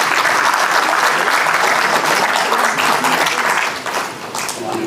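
A theatre workshop audience breaks into loud applause, a continuous dense roar of clapping hands that eases a little in the final second.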